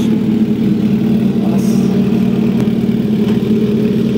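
A Kawasaki H2 supercharged motorcycle engine runs loud and steady at a trackday, with a constant strong mechanical drone and rumble throughout and small changes in pitch as it revs.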